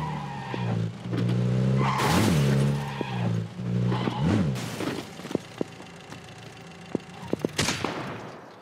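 A truck in a video game revs and skids, with loud engine roars and long tire squeals swelling twice, followed by sharp clicks and thuds as the engine noise fades.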